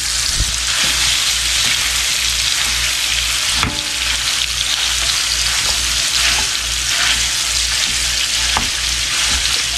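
Hot dog chili sauce made without tomato sizzles and fries steadily in a pan, a dense continuous crackle with occasional stirring clicks and no voices.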